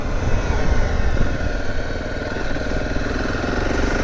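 Zontes T2 310 motorcycle engine running steadily at close range, a continuous mid-pitched drone with a faint rhythmic pulse and no pauses, with no voices.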